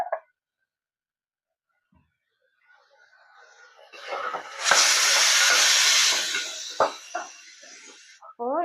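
Onions with ginger garlic paste sizzle and hiss in a pressure cooker while making mutton gravy for bagara rice, a steady loud frying hiss rising after a quiet start, with brief stirring knocks and a short bit of speech at the end.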